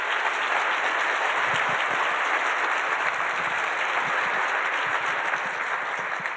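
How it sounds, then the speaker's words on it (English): A conference audience applauds panelists at a retail industry event, a dense, sustained wash of many hands clapping at steady volume for the whole stretch, with no speech over it. "please join me in a round of applause for our panelists"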